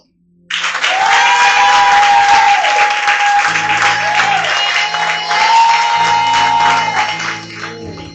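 A church congregation at a French-language sermon breaks into loud, sustained applause that starts abruptly and fills the space, with scattered shouts mixed in before it gradually thins out.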